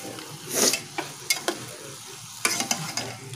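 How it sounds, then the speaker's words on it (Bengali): Yogurt chicken masala cooking on low heat in a pan, stirred with a utensil: a steady soft sizzle runs throughout, broken by several sharp scraping strokes, close and fairly loud, with no voices. "এইভাবে একদম হালকা আঁচে কষবেন"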